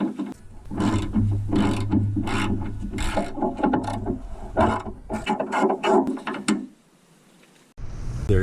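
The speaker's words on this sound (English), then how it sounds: "you probably do want to use a ratchet" Ratchet turning T40 Torx bolts on the liftgate of a 1997-2001 Jeep Cherokee, a busy run of dense mechanical clicking and clattering for several seconds, then a brief quiet gap before the clicking resumes.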